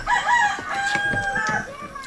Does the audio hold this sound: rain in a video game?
no